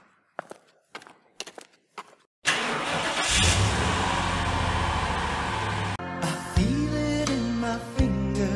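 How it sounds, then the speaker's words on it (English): Car engine starting after a few footsteps and clicks, cranking then catching into a loud steady idle, followed by revving with rising and falling pitch, no talk. "Let's go to the car and start the car now."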